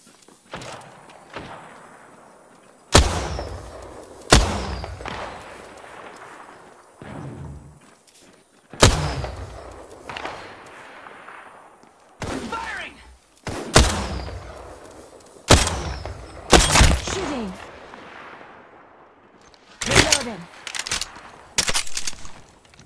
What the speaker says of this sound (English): Shot fired and they're hitting me.